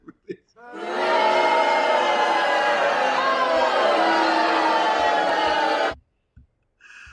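A played recording of a large crowd booing, one dense sustained roar of voices lasting about five seconds before cutting off abruptly, with a few faint knocks afterward.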